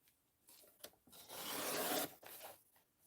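Paper is trimmed down for a mixed-media art journal: quiet rasping cuts, with a short scrape, a longer steady sliding rasp in the middle, then a final brief stroke.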